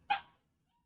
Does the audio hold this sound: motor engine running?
no